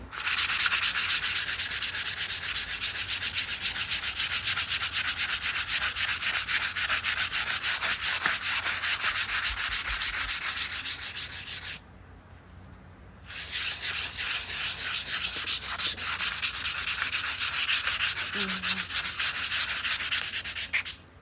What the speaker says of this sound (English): We're going to go sand this and it'll make the colors brighten up.